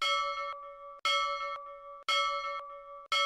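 A repeating notification bell sound effect: three bright, ringing chimes about a second apart, each struck loudly and decaying with a sustained metallic tone, clean and alone with no talk.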